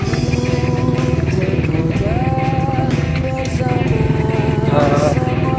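A motorcycle engine runs steadily and loud nearby, holding a continuous droning rumble with faint clatter as the rider sets off to get fuel.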